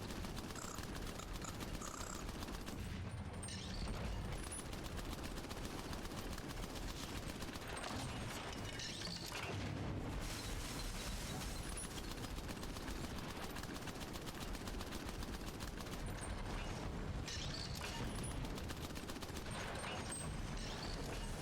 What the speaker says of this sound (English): Machine gun's taking them down.